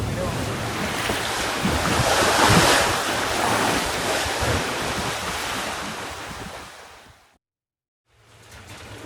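Strong wind roars over breaking waves at sea aboard a sailing boat in about 25 knots, a loud, continuous rush of gusts and surf that drops out abruptly near the end before returning.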